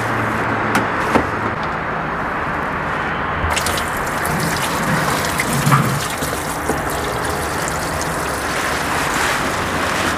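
Aging washing machine with its automatic function failing, running with water in a continuous rushing, sloshing wash that stays steady for ten seconds, heard up close with no voices.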